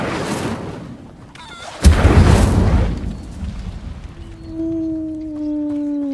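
Incendio fire spell cast in Hogwarts Legacy, heard as a sudden loud booming burst that rumbles for about a second before settling into a sustained tonal hum, with no voices present.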